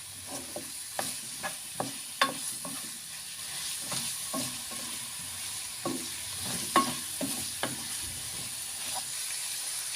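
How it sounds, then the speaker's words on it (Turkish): Filling ingredients with chili flakes for kozalak mantı are sautéed in a pan, giving a soft steady sizzle broken by repeated scraping stirs of a spoon, close and quiet. "Bunların hepsini böyle kavuruyoruz."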